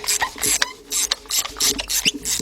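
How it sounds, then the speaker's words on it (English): A ratchet on a 16 mm 3/8-drive socket with a 12-inch extension works loose the spark plugs of a 2003 Nissan Altima 2.5, giving rapid bursts of close, loud clicking in an uneven stop-start rhythm. "go ahead, loosen up all the spark plugs"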